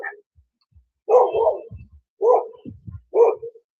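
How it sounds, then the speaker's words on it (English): A dog barks three times at a gate, close and loud, each bark followed by a softer grumble, with short pauses in between. "She's sitting out here barking at the gate."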